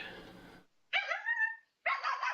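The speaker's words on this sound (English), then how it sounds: "Sorry about that, my dog." A household dog barks in a few sharp bursts, close to the microphone, with brief pauses between, right after someone talking in a room.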